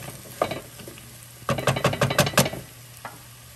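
Marinated squash cooks in a pan of Ethiopian-style sauce, giving a soft steady sizzle broken by a burst of brisk stirring scrapes and clinks, close and fairly loud, with no voices.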